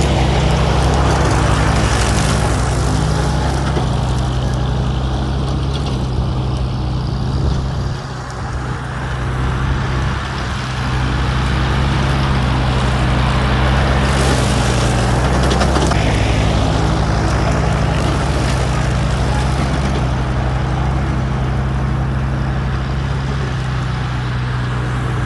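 A Farmall Cub tractor mowing, its engine running in a steady, close, low drone that dips briefly midway and then carries on alone.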